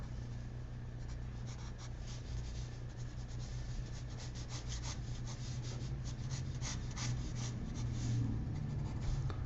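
A pencil sketches a pair of pliers on paper as a drawing exercise, giving a steady, close, scratchy rubbing of graphite strokes over a low background hum, with no talking.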